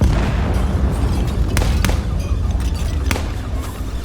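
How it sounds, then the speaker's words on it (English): Deep, rumbling booms roll in from far away over a constant low roar, with a few sharper distant cracks breaking through. "gunshots rang out while distant explosions punctuated the growing"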